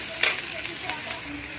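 Ginger paste and chopped carrot sizzle in a hot oiled pan, a soft steady frying hiss broken by a few sharp spatula scrapes and stirring clinks, close up and alone.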